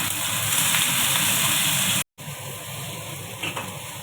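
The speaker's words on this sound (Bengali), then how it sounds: "লবণ, হলুদ, কাঁচা লঙ্কা এগুলো সব দিয়ে ভেজে নিব আলু বেগুনটা।" Potato and eggplant fry in hot oil with salt, turmeric and green chilies, giving a steady, close sizzling hiss that cuts out briefly and then resumes.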